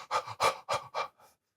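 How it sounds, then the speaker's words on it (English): Rapid, forceful mouth breathing demonstrated as over-breathing: five quick, loud panting breaths in a steady rhythm, each fading a little, close to the microphone, with no talking. "Right now, if we are mouth breathing, how hard is it to breathe very"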